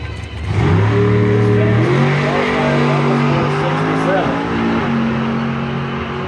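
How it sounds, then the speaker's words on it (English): A 2010 Mustang drag race car launches on a solo bye run and pulls hard through rising, stepped gear changes, the loud engine roar holding steady and close with crowd noise behind. "Here's Sean Nagy with the bye run, the 2010 Mustang."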